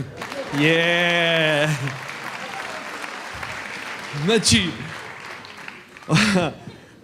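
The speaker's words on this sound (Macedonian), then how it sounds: "Спонтан аплауз." Audience applause at a stand-up comedy show fills the background, with a loud drawn-out shout early on and a couple of brief voices breaking through later.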